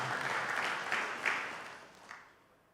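Church congregation applauding during a sermon, a steady dense wash of clapping that swells briefly and then fades out toward the end, moderately distant with no voice over it.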